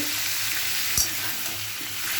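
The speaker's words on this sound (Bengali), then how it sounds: "এটা ভালো করে ভাজা ভাজা হোক।" Steady, soft sizzling of spices with salt and turmeric frying in a pan, with a brief stirring scrape partway through; no one speaks.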